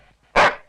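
A dog gives one loud, close bark, a short sharp burst that follows near-silence and fades quickly.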